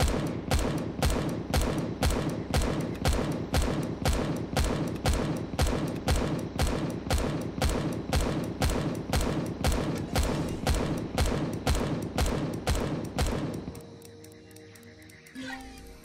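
Sustained rhythmic burst of automatic weapon fire in the survival game Empyrion: Galactic Survival, loud, even shots for about thirteen seconds before cutting off to quiet ambience.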